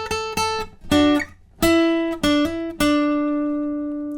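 Electric guitar plays a short lead riff of sustained, ringing notes, several picked in quick succession, the last note left to ring out.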